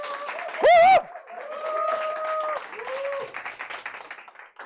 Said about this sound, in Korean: 우리 수고하시고 열심히 하신 우리 이준용 쌤님께 한 번 더 박수 부탁드릴게요